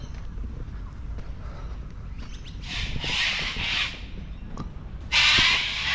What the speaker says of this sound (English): These birds are really loud, the white ones.